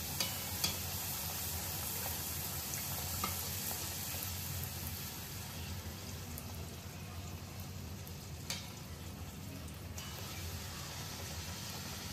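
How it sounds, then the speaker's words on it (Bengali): Stuffed puri (radhaballavi), rolled fairly thick, frying in hot oil: a continuous, even sizzling hiss that holds for the whole stretch, with a few faint clicks and no voices. "এবারে একে একে ভেজে নেব।"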